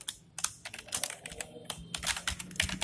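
Keys clattering on a computer keyboard while code is typed in a programming lesson, a quick irregular run of close, crisp taps with short pauses between bursts and no talking.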